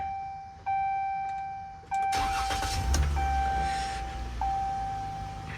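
A Dodge Ram 1500 cranks and catches after the key is turned, preceded by a repeating dashboard warning chime, then a rough, loud rumble of engine turnover up close, with no voices.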